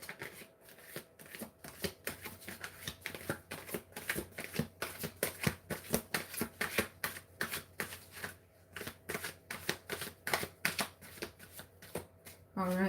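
Tarot cards being shuffled close by in repeated quick riffling bursts, crisp papery flutters coming in a steady rhythm over a quiet background, faint overall.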